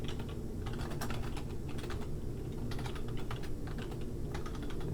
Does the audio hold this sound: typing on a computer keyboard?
yes